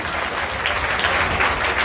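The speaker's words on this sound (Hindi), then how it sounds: "सबके लिए जोरदार तालियां।" Loud, dense applause from the gathering at a seven-day Srimad Bhagwat recitation in Baraut, a continuous wash of many hands clapping for about two seconds without talk.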